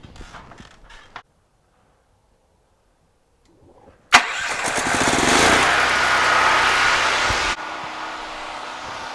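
A Firman tri-fuel generator running on natural gas gives a few creaky cranking pulls, goes quiet for a moment, then fires up and runs loud and steady up close before its drone settles to a lower level near the end.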